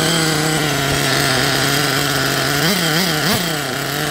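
Old RC car nitro engine idling with a steady, buzzy high-pitched drone, close and loud, the pitch dipping and wavering briefly near the end.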